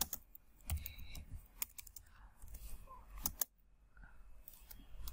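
Fast, quiet clicking of typing on a computer keyboard while entering comment text comes in short bursts and scattered taps, with a brief pause near the end. No speech.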